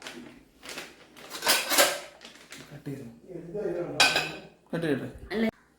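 Dishes and pots clatter and clink in bursts, with some talking mixed in among the kitchen noise.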